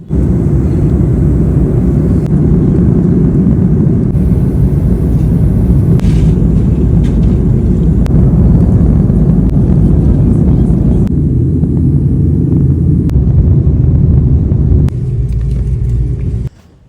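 An Air China jet cabin on a long-haul flight from Beijing to Riyadh, with a loud, steady broadband engine roar that continues throughout and drops slightly just before the end.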